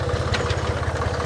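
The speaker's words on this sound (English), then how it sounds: "I absolutely love these Ford tractors, Jeremy." A Ford tractor engine idles steadily close by, a low, even rhythmic throb with a faint mechanical rattle and no voices.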